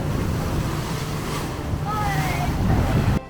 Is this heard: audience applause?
no